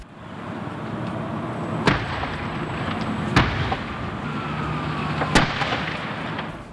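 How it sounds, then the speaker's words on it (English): Three sharp booms from concrete bursting in the intense heat of a tanker truck fire, spaced a second or two apart over a steady roar of flames, heard from some distance. "those explosions were portions of concrete exploding in the intense heat of the fire"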